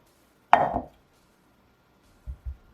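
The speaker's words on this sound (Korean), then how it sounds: "양파 반 개 얇게 잘라 밭에 넣을게요" A knife slices through half an onion on a board: one crisp cut followed a moment later by two soft, low knocks, close and otherwise quiet.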